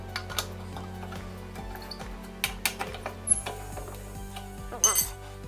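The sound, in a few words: tire iron loosening lug nuts on a flat tire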